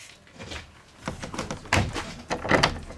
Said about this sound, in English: Sorry, that was the door.